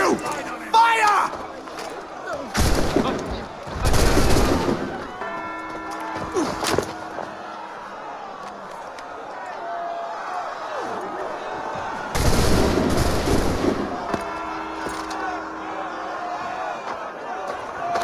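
Volleys of musket gunfire in the Assassin's Creed III video game: two heavy broadband bursts of massed shots, loud and close, separated by quieter battle ambience with shouted orders and talk over it.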